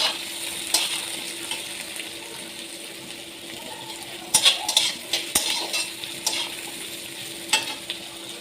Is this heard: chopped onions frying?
yes